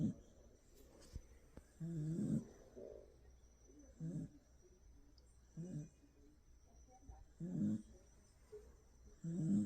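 A dog snores while asleep in the middle of a bed, pressed up against a woman; soft, close snoring breaths repeat every couple of seconds in a quiet room.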